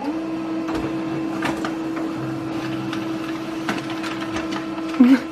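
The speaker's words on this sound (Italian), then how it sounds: "la stampante ho sempre il dubbio se funzionerà oppure no" A home printer runs through a page with a steady mechanical hum and repeated clicks and feed clatters, ending in a brief louder whirr.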